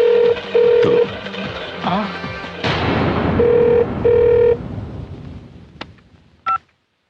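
A telephone rings in short electronic bursts, several tones in a row, alongside other room sounds and clicks. The ringing is loud and near, and it stops before a brief final beep.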